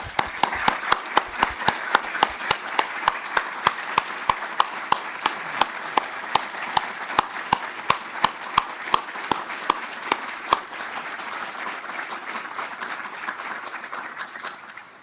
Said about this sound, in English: The length of that applause is a sign of how grateful people here are.